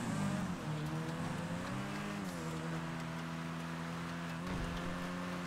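A damaged car engine revving in a video game, a loud, continuous droning engine note with shifting pitch as it accelerates and eases off, with a brief dip and surge near the end.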